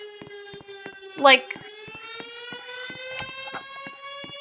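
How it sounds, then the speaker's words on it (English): Steady tonal siren in the Roblox game, a sustained rising wail running throughout, with a voice speaking briefly over it. "I'm gonna turn on the siren so it sounds like it's like in the background"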